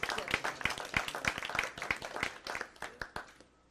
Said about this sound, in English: Just round of applause for our speakers.